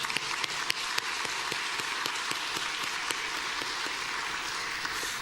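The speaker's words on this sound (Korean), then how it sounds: "하나님께 영광의 박수를." A church congregation claps together after worship music, a steady wash of applause with a few sharper individual claps standing out, sustained at moderate volume with no talking.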